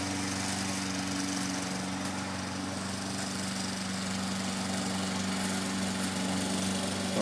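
A self-propelled lawn mower drones steadily and loudly at close range as it runs across a flat but rough lawn, with no pauses throughout.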